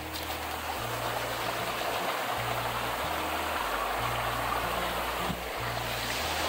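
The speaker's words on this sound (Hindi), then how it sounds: "इधर से पानी जा रहा है पाथर का सुरंग से" Water flows steadily through a rock tunnel in a forest stream, a continuous rushing wash that stays even and close throughout, with no voices.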